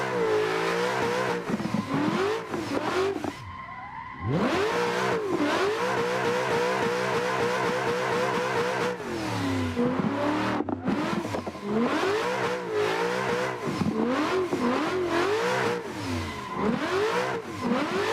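Simulated car engine revving hard while drifting in Assetto Corsa, played on a steering wheel with a drift mod: loud, continuous sweeping revs rise and fall again and again, with a brief dip near the start.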